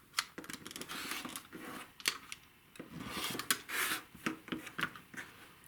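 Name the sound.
trimming quilt half square triangles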